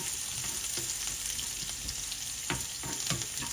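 Sliced shallots and garlic fry in a pan for a Kerala-style chicken roast, giving a continuous loud sizzle with occasional stirring scrapes and clicks, with no talking.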